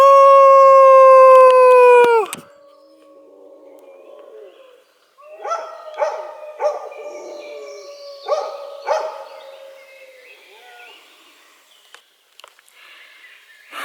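A dog outdoors during solo rope rigging in Luxembourg gives a series of broken, wavering howls and yelps after a loud opening tone, moderately close, with quiet gaps between the calls and no talking.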